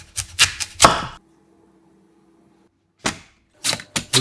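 A knife chopping radish into 7 cm lengths on a board, with three sharp close chops, a silent pause, and then a few more chops.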